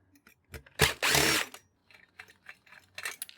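A power driver unthreads screws while a printer is being taken apart for scrap, a short loud whirring burst followed by quieter scattered clicks and rattles of parts.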